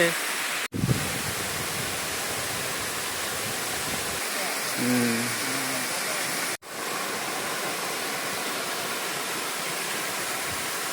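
Water rushes steadily, with a constant roar from Rathi Bali waterfall and a brief voice partway through.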